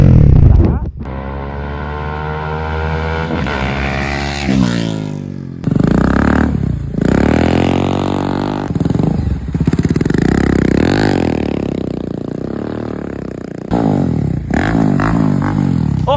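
Bajaj Dominar 400 motorcycle fitted with an aftermarket exhaust revs hard in repeated bursts, rising and falling throttle blips close by, loud and raw with a clattery edge and no talking.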